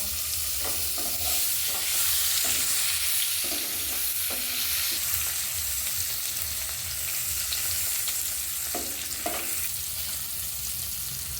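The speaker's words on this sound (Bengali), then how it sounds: "কেটে রাখা টমেটো কুচিগুলো দিয়ে দেব।" Chopped tomatoes tipped into a hot frying pan with a little cumin, giving a steady oil sizzle with intermittent stirring scrapes throughout.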